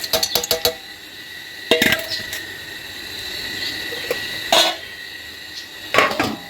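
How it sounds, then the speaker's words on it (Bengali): A lid goes onto a cooking pot on the stove with a quick burst of sharp metallic clinks, then a few more separate clanks spaced apart, over a faint steady background hiss. "ঢাকা দিয়ে দিচ্ছি, আস্তে আস্তে হবে"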